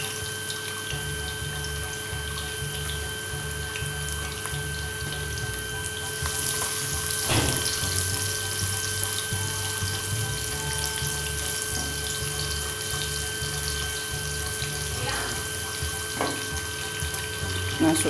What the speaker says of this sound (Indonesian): Nih, minyaknya udah saya panasin ya. Masukin bawang putihnya.